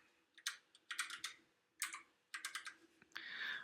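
Fingers typing a password on a computer keyboard, quick bursts of crisp key clicks separated by short pauses, close and quiet in a still room.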